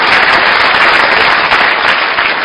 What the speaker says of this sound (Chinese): 大家掌声送给他，谢谢你们